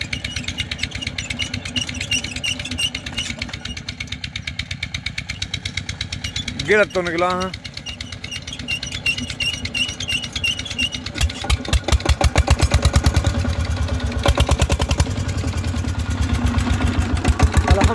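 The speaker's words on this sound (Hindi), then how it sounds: "पहले इंजन स्टार्ट कर लेते हैं जी।" A farm engine in open fields is cranked over and catches, then settles into a loud, steady, rapidly pulsing idle, with someone talking nearby.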